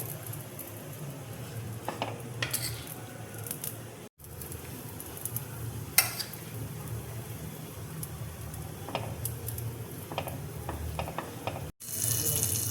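A moong dal sandwich fries in butter in a frying pan, giving a quiet continuous sizzle with occasional clicks and scrapes of handling, heard close with no talk.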